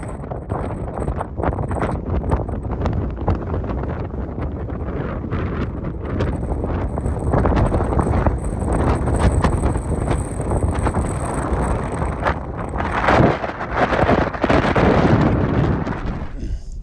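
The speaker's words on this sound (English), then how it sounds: "it's going to be constant 15-20 mile an hour winds and 24 mile an hour gusts" Strong gusting wind buffets the microphone on an exposed Lake District summit, a loud, constant roar with surging gusts and no voices.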